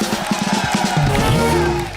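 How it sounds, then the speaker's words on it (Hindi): A television comedy show studio audience claps and cheers to welcome a celebrated Hindi poet as a guest, a rhythmic burst of applause giving way to a swelling crowd roar. "डॉक्टर साहब के लिए एक बार जोरदार तालियां हो जाए।"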